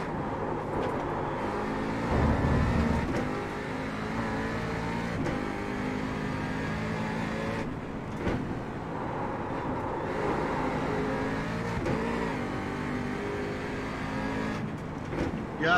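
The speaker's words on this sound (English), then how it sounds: "The car's just loud, unfortunately." Race car engine in the iRacing sim, a steady loud broadband drone with layered harmonics that rise and dip as the car revs and shifts, continuous throughout.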